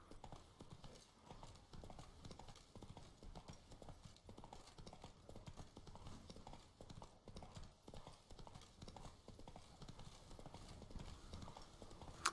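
Horse hooves clip-clop in a steady trotting rhythm through The Witcher 3: Blood and Wine, quiet and continuous throughout with no pauses.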